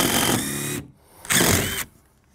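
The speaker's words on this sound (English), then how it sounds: "I'm gonna just drill this" A power drill bores into shed wood in two short, loud bursts close by, each lasting under a second, with brief quiet between them.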